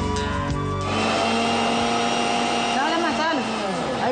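Mixer grinder blending garlic cloves and spices, a loud steady motor whir with a high grinding whine that stays constant for several seconds, with no talk over it.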